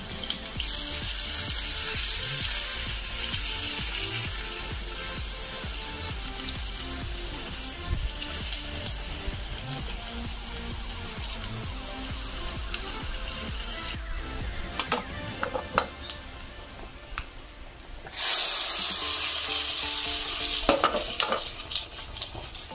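Torn dried red chilli and crushed garlic fry in hot oil with a dense, crackling sizzle and frequent stirring. A louder burst of spattering comes late on.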